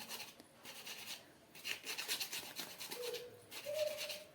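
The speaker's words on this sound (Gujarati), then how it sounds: "હવે આપણે સારી રીતે એને મિક્સ કરશું આ રીતે." Cake batter with cardamom powder is stirred by hand in a bowl, giving soft, close scraping and rubbing strokes in uneven bursts, fairly quiet with no talking.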